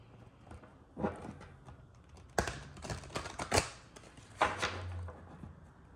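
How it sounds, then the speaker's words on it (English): Tarot cards are shuffled in a few short, rough riffling bursts with soft taps between them, close and fairly quiet, and nobody talks. "I'll practice the shuffling because the cards are too rigid."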